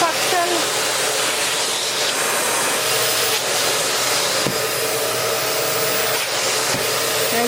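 Eureka Floor Rover upright bagless vacuum cleaner running, a loud steady broadband whoosh and motor whine held throughout, close to the microphone, with a couple of brief knocks as it moves.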